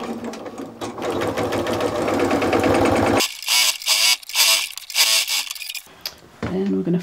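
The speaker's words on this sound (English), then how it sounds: "I'll take that to the machine and I'm going to sew across there with a 1cm, the full seam allowance" A sewing machine stitches across the top edge of a tote bag with a 1 cm seam allowance, backstitching at each end. It runs steadily, then whirs in short stop-start bursts, up close.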